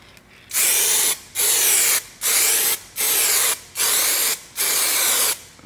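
Spray paint applied to a plastic bumper cover as a third coat, heard as six loud, close hissing bursts of even length separated by short pauses.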